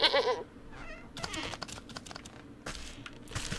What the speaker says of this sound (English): her sleep is interrupted by an odd little noise. Goat.